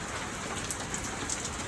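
Morning rain falls in a constant close hiss, with a few sharper drops pattering on a surface and no voices.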